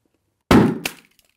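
A rubber balloon is popped with an open safety pin, giving one sudden loud bang after a moment of silence, then a brief scattered crackle and a faint tick as it fades.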